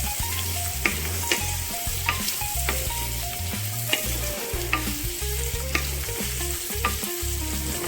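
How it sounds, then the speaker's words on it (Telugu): Onions with dried red chillies and green chillies fry in a pan for a drumstick curry, a steady sizzle broken by frequent clattering, scraping stirs of a spoon, close and alone. "ఇవి చక్కగా ఎర్రగా వేగాలి"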